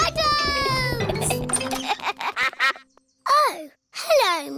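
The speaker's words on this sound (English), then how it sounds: "Oh, hello, Mrs. Duck" A cartoon duck quacks in short bursts between stretches of a child's cheerful speech, the quacks loud and close with a rising-falling squawky tone.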